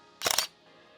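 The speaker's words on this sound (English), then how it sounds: "And this would be the sound of our first shutter." A single quick camera shutter firing at very high speed, a short bright mechanical clatter of a few rapid clicks lasting under half a second, close and clear against faint background hiss.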